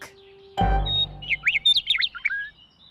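Cartoon bird chirps in a rapid run of bright, rising tweets that follow a heavy low thump, close and fairly loud, with a short squawk near the end.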